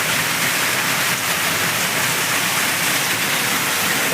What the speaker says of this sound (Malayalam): ഇതിലൊക്കെ വെള്ളം ചാടുന്നതാണ് മുകളിൽ നിന്ന് വരുന്ന വെള്ളം